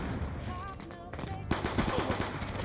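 Rapid multiplayer gunfire in Black Ops 2, a fairly faint stream of shots with tonal game effects, growing denser in the second half, with no talking.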